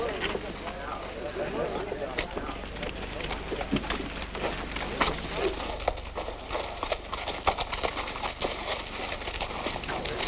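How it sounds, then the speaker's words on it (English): Hooves clip-clop steadily amid outdoor ambience with wind and birds, while people talk in the background; the clatter sounds moderately near and irregular. "All right, off your horse, Cheney."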